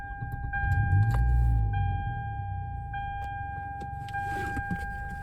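A 2004 Toyota Camry pulling away, with a low engine rumble that swells and eases under steady chime tones from a seatbelt alert, plus a few faint clicks inside the cabin.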